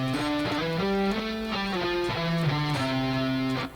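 Major-scale electric guitar solo played as a melodic run of clear sustained notes that step up and down, ending on a held root, loud and alone without talk.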